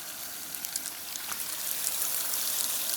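Warm water sprinkles steadily onto tomato seedlings in cassette trays in a greenhouse, a close, continuous patter that grows slightly louder toward the end.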